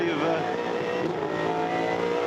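Holden Commodore V8 touring cars race through the Holden hairpin in 2001, engines droning loudly and continuously as they brake and accelerate, with commentary talking over the racing noise.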